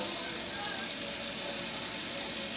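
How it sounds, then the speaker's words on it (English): Water runs from a sink tap during a garbage disposal installation test, a loud, steady hissing flow that continues unchanged from start to finish. "first we need to turn on water"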